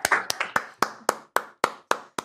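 A single person's hands clapping during an Italian live stream, about nine sharp, evenly spaced claps at a slow, deliberate rhythm, close and distinct with silence between them.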